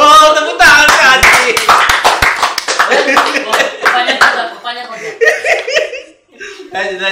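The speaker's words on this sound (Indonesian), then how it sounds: "Wow, tepuk tangan ke hati." An audience claps and laughs together in a loud, dense burst of applause that gradually thins into scattered claps and chuckles, with voices mixed into the crowd noise.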